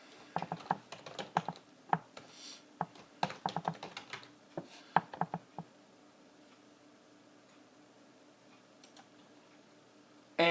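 A name being typed on a computer keyboard: quick bursts of close, crisp key clicks for about six seconds, then quiet room tone.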